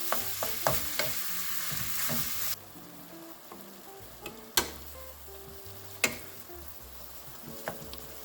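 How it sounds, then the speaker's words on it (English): Ground turkey browns in a pot for low-carb chili, a soft sizzle broken by sharp scrapes and clacks of a spoon against the pot, scattered irregularly and heard alone. "we're going to add our ground turkey. And we are going to continue to cook this until it is brown."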